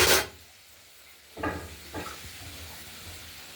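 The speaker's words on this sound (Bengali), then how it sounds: "তার সঙ্গে আমরা এবার কষিয়ে নেব মশলাটা দিয়ে আলুগুলোকে" Potatoes sautéing in a pan with ground spice paste, with two short scraping, sizzling bursts as they are stirred over a low, steady frying hiss; no one speaks.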